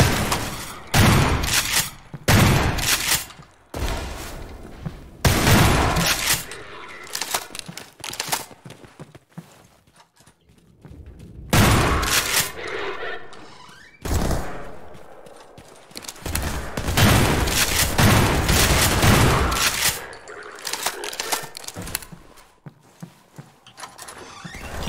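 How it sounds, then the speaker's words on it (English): Half-Life 2 gunfire in Garry's Mod comes in loud, dense bursts of rapid shots and impacts separated by short lulls, harsh and close throughout. "Can you guys stop shooting at me, please?"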